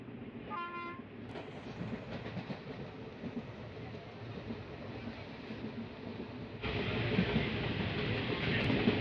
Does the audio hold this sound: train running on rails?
yes